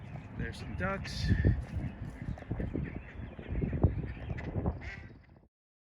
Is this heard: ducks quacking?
yes